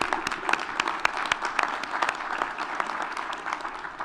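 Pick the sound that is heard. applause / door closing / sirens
applause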